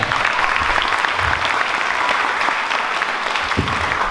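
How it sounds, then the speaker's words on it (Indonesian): An audience at a mosque youth gathering claps for a speaker, producing loud, continuous, dense applause that stays even throughout. "Tepuk tangan untuk beliau."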